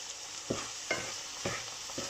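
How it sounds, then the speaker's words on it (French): Minced meat and onions fry in a pan under a steady sizzle, with four stirring scrapes arriving roughly every half second, close and clear with no talking. "on fait bien revenir donc la viande hachée et les oignons"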